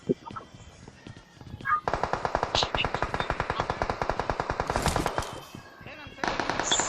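A machine gun in a video game fires a long rapid burst of evenly spaced shots after a brief quieter start, loud and close, with players' voices talking underneath.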